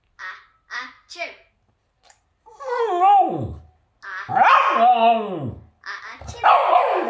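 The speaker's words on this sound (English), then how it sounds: "he seemed to not like the video and started barking" A dog barks and yowls at a video playing on a screen, with several short sharp barks followed by longer drawn-out howling vocalizations, close and loud with gaps between.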